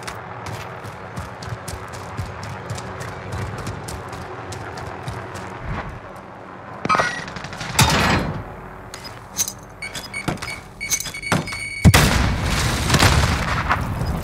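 Gunfire in the Call of Duty Warzone video game: scattered sharp shots and rapid bursts over a steady rumbling battle background, growing louder and denser toward the end, with no talk.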